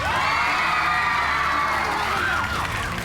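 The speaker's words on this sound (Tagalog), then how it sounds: "Palakpak ng Blue Team!" Children on a kids' television game show cheer for the Blue Team, a loud, sustained burst of excited shrieks and whoops with rising and falling voices near the end, with any clapping buried in the din.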